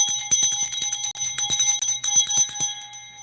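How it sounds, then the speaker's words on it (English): Bells ringing repeatedly in a rapid, uneven peal with bright sustained tones layered over each other, loud and close, gradually thinning toward the end with no voices. "where I'm at, they still ring those bells"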